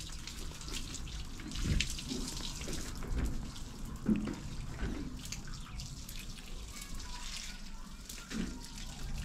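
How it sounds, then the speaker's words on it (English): Water runs steadily as a hose or tap wets down a house roof under construction, a continuous broadband splash with a few louder bursts, with faint voices in the background. "So it's a whole lot of water being used."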